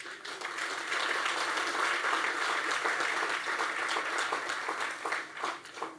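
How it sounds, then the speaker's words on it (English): Round of applause from an audience at a specialist hospital event, loud, dense clapping sustained for several seconds before tapering off. "that deserves a solid round of applause"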